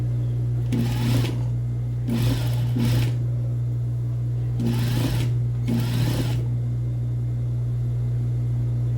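A sewing machine runs in four short bursts of stitching around a fabric collar, each a second or so long with brief pauses between, close and clear over a steady low hum.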